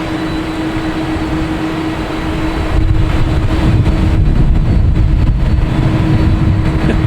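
Iberia Phenom jet arriving at Boston Logan Airport, a loud steady engine roar with a sustained tonal whine that swells and grows rougher as the plane draws nearer.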